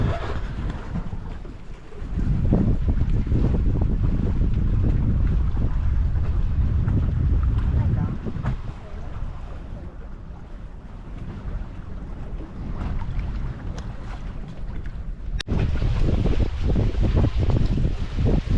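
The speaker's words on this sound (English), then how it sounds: "We've got our sails up and we're on our way to Paleros." A sailing catamaran runs under sail in a breeze of about eight knots, with steady wind rush buffeting the microphone and water swishing along the hulls, continuous and loud, with no talk.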